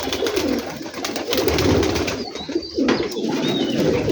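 Rajshahi Giribaz pigeons coo in a dense flock, a continuous low warbling murmur close by with wing flutters, steady and loud throughout.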